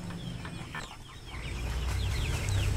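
Free-range chickens cluck and chirp softly in an outdoor farm setting over a steady low rumble of background noise, the calls scattered and moderately distant.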